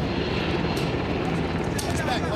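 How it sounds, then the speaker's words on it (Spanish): Steady rotor and engine drone of a helicopter with a red cross flying overhead in Baghdad, continuous and fairly loud, with voices faintly mixed in. "ese helicóptero con una gran cruz roja siempre está ahí sobrevolándonos"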